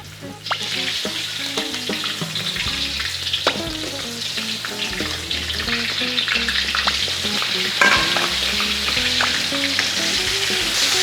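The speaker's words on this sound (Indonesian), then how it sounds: "Goreng dulu sebentar aja." Crab sizzling and frying in shallow hot oil over a low flame, a steady crackling hiss with occasional spatters that holds for the whole stretch, close and fairly loud with no voices.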